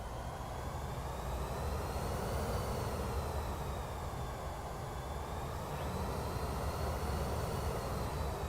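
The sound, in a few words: Pilatus PC-24 jet engines in Microsoft Flight Simulator 2024 video game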